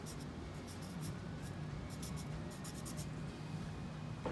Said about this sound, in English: And so we're gonna write medium over here.